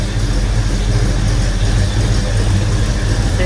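A clean 1969 Pontiac Le Mans convertible with a 455 V8 runs steadily, a loud, continuous low rumble held at an even idle with no voices over it.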